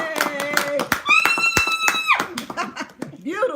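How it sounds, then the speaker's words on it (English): A small group claps for a guest in a burst of sharp, close hand claps mixed with cheering voices, a high whoop and laughter. "Applause for the brother."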